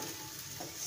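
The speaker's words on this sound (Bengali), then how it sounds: "এইভাবেই সব মাছের মাথাটা ভেজে নেব।" Chital fish heads fry in hot oil, a faint, even sizzle for a brief moment with no talking.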